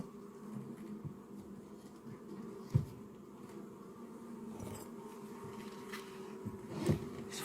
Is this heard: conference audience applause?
no